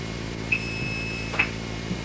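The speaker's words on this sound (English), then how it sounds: "He presses the 2600 Hz key," A phone phreaking blue box sends its 2600 Hz tone, a steady high-pitched whine that runs the whole time over a low background hum, with two brief brighter chirps breaking in.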